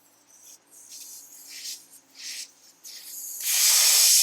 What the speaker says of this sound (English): we will remove the valve stem core